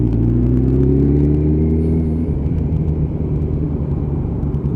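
A group motorcycle ride on an open road during advanced rider training, with a loud, steady engine drone and some wind rumble close to the microphone, a rise and fall in pitch partway through, and no talking.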